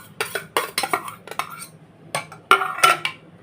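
A spoon clinks and scrapes against a bowl in quick, irregular bursts as grated beetroot is stirred into yogurt, close and fairly crisp, with brief pauses between strokes.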